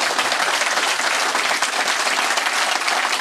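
Loud, dense applause from a crowd during a speech by Pierre Poilievre, a continuous close wash of many hands clapping that holds steady throughout without voices on top.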